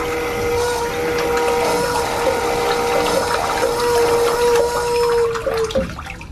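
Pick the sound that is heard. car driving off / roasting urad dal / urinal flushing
urinal flushing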